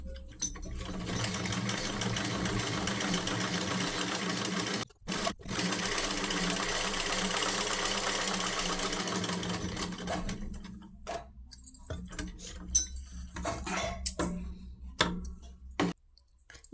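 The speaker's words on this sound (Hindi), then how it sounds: "आइए स्टार्ट करते हैं अब सिलाई करना।" A sewing machine stitches salwar fabric in a fast, steady rattling run, pauses briefly, resumes, then breaks into short clicks and intermittent bursts toward the end.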